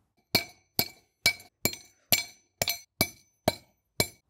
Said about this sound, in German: die Bolzenanker mal dementsprechend von oben hineingeben und mit einem Hammer auch ordentlich hineinklopfen